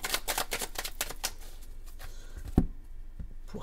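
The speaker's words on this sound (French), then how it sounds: "Allez, Béline, on va faire la coupe." A deck of tarot cards is cut and shuffled up close, producing quick, crisp riffling flutters followed by a single sharp tap and quieter handling.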